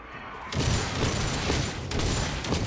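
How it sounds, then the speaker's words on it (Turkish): Shotgun blasts in the online shooter Synced, heavy booming shots that start abruptly and continue as dense, close gunfire with a second burst near the end. "pompalı çok sağlam vuruyor be"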